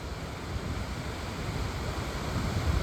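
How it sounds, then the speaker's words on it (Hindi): Large waterfall pouring over a huge white rock in the remote Himalayas near the village of Budhi, heard as a steady, dense roar of rushing water throughout. "एक और बड़ा ज़बरदस्त वाटरफॉल आया है"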